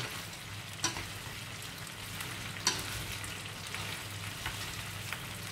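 Steady sizzling of large freshwater shrimp frying in hot oil, with occasional sharp pops and a clink from the pan.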